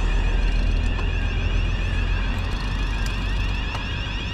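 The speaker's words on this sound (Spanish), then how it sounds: "Están probando las alarmas." Steady wailing alarm tones sound continuously over a loud low rumble of road noise, with faint higher pitched tones sweeping throughout.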